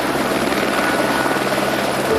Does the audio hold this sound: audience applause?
no